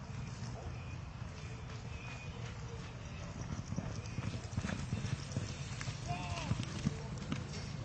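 Horse hooves clip-clop steadily through a show run, with a faint whinny, heard under an announcer's voice and arena background noise.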